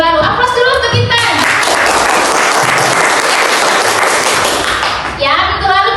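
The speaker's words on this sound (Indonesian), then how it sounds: "Aplaus dulu untuk Intan." A classroom claps for a student in a loud, dense burst of applause lasting several seconds, with a teacher's voice just before and after.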